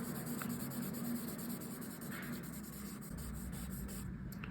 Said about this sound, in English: blend things with this blend pencil